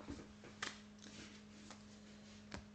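Oracle cards shuffled for a tarot reading, quiet close riffles and flicks at uneven intervals, a few sharper snaps, with no talking.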